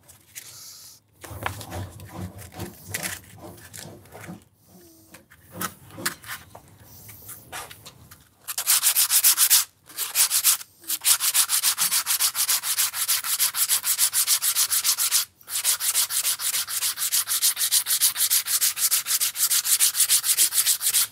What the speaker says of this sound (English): I'll then sand the pair down.